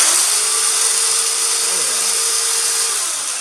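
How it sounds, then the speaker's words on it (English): A small Craftsman chainsaw engine whines loudly and steadily, its pitch dipping briefly mid-rev before holding and fading slightly at the end. "I'm going to rev it up"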